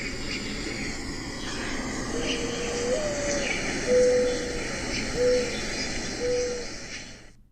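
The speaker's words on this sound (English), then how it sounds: "It's a mourning dove." A mourning dove coos in a backyard, several soft, low, drawn-out notes repeated at intervals over faint outdoor ambience.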